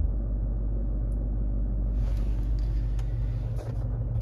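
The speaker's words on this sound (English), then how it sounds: "Vehicle lifting slowly. I can hear the compressor going." Range Rover L322 air suspension compressor runs as the vehicle lifts slowly, giving a steady low rumbling hum close by, with faint higher whirring joining partway and continuing without talk.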